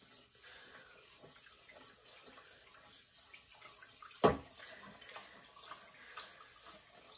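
Tap water runs softly and steadily while food is rinsed in a kitchen, faint and continuous, with one sharp knock partway through.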